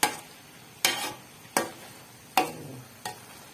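Carrot halwa (gajrela) stirred and roasted in ghee in a pan, heard as five sharp scraping strokes of a spoon against the pan, each followed by a soft sizzle, close up with no talking.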